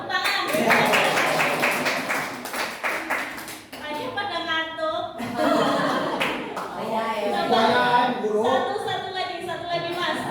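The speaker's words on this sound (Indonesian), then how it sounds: "Yuk, bareng-bareng ya, tepuk tangan ya" A group claps hands together during an indoor session, sharp rapid claps bunched in bursts near the start and scattered later, mixed with a person talking and some chuckling.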